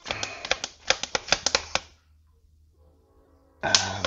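A small hand pump pressure-tests the coolant system of a Lotus Evora: a quick run of sharp, clicking strokes, a pause of near silence, then the clicking resumes, close to the mic.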